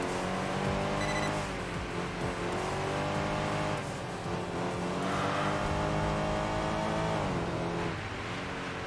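Race car engine from the Enthusia Professional Racing video game, a loud sustained drone with shifting revs and pitch through gear changes, running continuously while the car slides with understeer, no talk.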